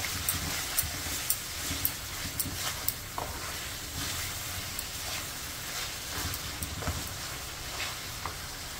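Egg dopiaza ingredients fry over a high flame, a steady broadband sizzle broken by occasional sharp stirring scrapes and clicks, close and fairly quiet with no talking.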